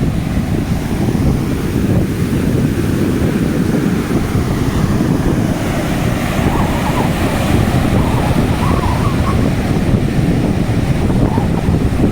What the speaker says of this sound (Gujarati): દરિયો મોજા મારે